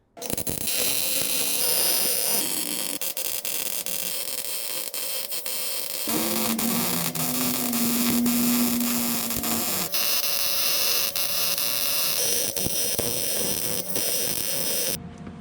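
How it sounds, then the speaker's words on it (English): Arc welder running while welding a car's transmission tunnel in a home garage, steady crackling buzz and static hiss with a humming tone midway, continuous and close with no talking. "So let's fire up the welder and..."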